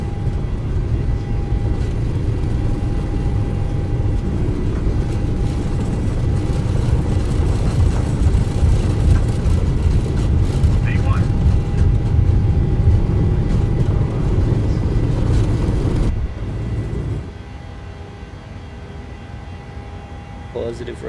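PMDG 737-800 jet engines at takeoff thrust in Microsoft Flight Simulator, a loud, steady broadband roar that holds for most of the stretch, then drops off abruptly to a quieter hum near the end.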